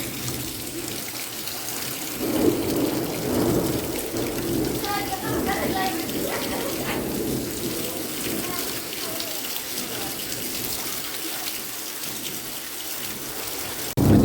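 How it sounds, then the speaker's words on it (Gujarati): Heavy rain pours steadily during a thunderstorm with lightning, a dense continuous wash of water noise with faint rumbles and brief voices in the background. "કાતા ફટાફટ વીજળી કડાકા ફડાકા ને પછી વરસાદ આવ્યો"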